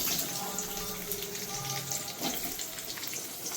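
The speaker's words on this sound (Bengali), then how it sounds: "এবার আলুটা একটু হালকা ভেজে নেব, তারপরে আমি মশলাটা দেবো।" Potatoes frying in oil in a pan after a black cumin tempering, a steady close hiss and sizzle with a few faint clinks of stirring throughout.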